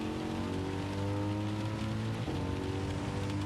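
Steady rain hissing over a wet racetrack in Gran Turismo 7, mixed with a continuous droning race car engine whose pitch dips briefly as it shifts, all at constant loudness.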